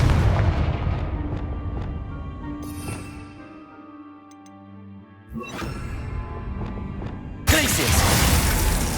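Spell blasts from Hogwarts Legacy, including a Confringo explosion, give two sharp booms with crackling debris, separated by a quieter stretch, the second burst louder and brighter, with game sounds and talk around them.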